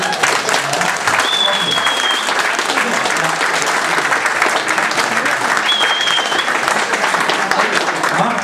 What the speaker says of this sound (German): wenn Sie jetzt hier nochmal gemeinsam so einen Applaus loslassen